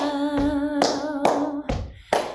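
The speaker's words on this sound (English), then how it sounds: "if you just want to clap and stomp the way you want, you are welcome to now" Audience clapping and stomping along to the folk song "Bring Me Little Water, Silvy", heard as a few loud, spaced hand claps and stomps over a sustained sung note.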